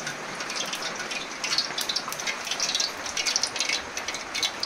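Steady rain falls in a continuous bright hiss, with a thicker patter of drops swelling and easing, fairly close and with no voices.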